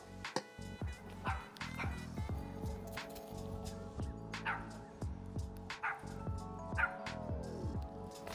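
Outdoors, a dog barks, yips and whimpers in a string of sharp, fairly close calls with high whines between them, and some faint background noise underneath.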